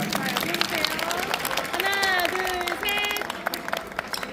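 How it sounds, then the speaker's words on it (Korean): Applause from an audience at a Korean sport stacking awards ceremony, a crowd clapping beneath a voice that talks over it, with some tonal music or singing threaded through. "다시 한 번 박수 부탁드리겠습니다"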